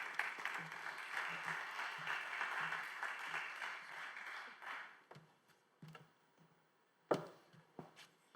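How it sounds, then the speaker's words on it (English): An audience at a quantum technology conference closing session applauds for about five seconds, the clapping fading out and leaving a few scattered taps and claps. "Please give a round of applause for George Thomas."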